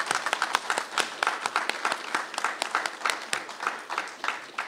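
A small audience at a disability organization's event claps in a clear round of applause, individual claps audible in an uneven, moderately close patter.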